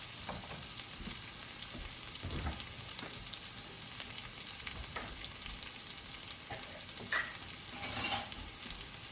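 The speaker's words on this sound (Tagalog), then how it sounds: "And gisa muna natin yung ating onions." Steady sizzling of onions sautéing in a pan, with occasional stirring scrapes and clinks, close and continuous, no voices.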